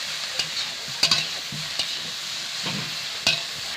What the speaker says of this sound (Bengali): ভালো করে একটু নেড়ে চেড়ে কষিয়ে নেব।